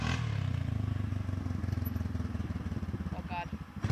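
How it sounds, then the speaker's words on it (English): A Yamaha off-road vehicle in four-wheel drive revving hard while its front tires spin, a loud, rough, pulsing engine drone with rattling and clatter. Voices can be heard over it. "Yeah, oh, he's spinning the front tires in air."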